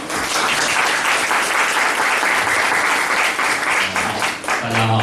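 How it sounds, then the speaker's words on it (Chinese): Sustained, dense audience applause welcoming a speaker at a talk, loud and steady throughout with a voice starting near the end. "那我们现在先热烈掌声欢迎钟理啊"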